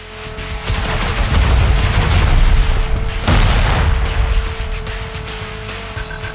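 Rockets explode in SpyHunter 2 as a loud, sustained booming rumble, swelling and rolling on with a fresh blast near the middle, under a steady vehicle drone.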